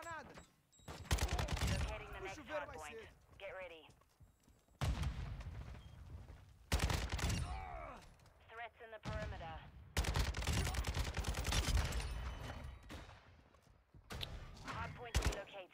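Heavy bursts of automatic gunfire with thuds and blasts in a Modern Warfare 2 multiplayer match, loud and close in repeated volleys, with game voice callouts breaking in between.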